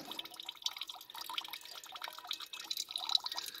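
Rainwater leaks through the roof of a camper van during rain, falling in irregular, close drips that patter steadily without any talk.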